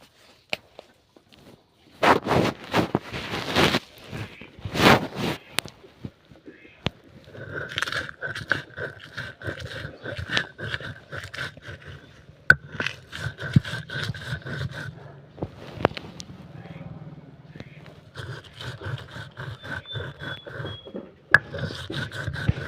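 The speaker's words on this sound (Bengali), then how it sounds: "এখন মশলা বাটবো।" Spices ground by hand on a grinding stone, with loud rhythmic scraping and knocking strokes at first, then a softer grinding rasp that goes on in uneven bursts with occasional sharp taps.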